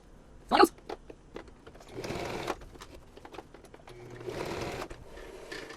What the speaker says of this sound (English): then I sew an X through it